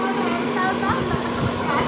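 A rewound snail-type blower fan without a capacitor runs after being plugged in, giving a steady electric hum and whirring drone while a person talks over it.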